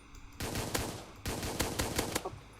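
Rapid gunfire from shooting enemies in a video game, two dense bursts of fast automatic shots, loud and close, with a short pause between them and no talk.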